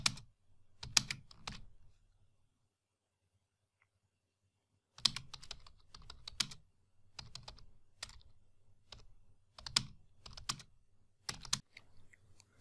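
Typing on a computer keyboard late at night, quick bursts of close keystrokes separated by pauses, with a long quiet gap near the start before steady clattering resumes.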